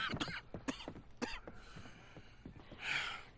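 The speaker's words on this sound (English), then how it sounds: "I'm not coughing because Arthur's doing it for me" Arthur Morgan coughs in Red Dead Redemption 2, a few harsh, close coughs and throat-clearing bursts spaced through the opening, followed by quieter breathy sounds and a brief hiss.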